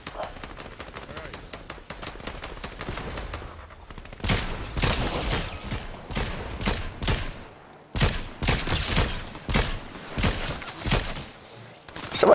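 Rapid bursts of gunfire in the video game Fortnite, loud and near, with dense automatic volleys and short pauses between bursts, continuing to the end.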